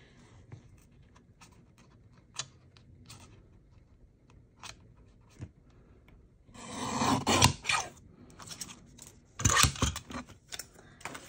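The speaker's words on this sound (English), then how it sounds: "I am gonna use a trimmer for that because I'm gonna go all kinds of not straight if I don't." A paper trimmer cuts card for a craft project, with faint scraping and handling early on, then louder rasping slides and crisp cutting strokes near the end, close-up with no voice.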